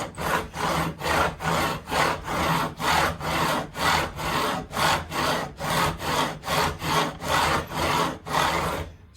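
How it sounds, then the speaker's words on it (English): A file rasps back and forth across the fret ends of a 1985 Made-in-Japan Fender Telecaster. The strokes are steady and even, about two per second, close and unaccompanied by any voice. "So I'm filing vertically at the moment now"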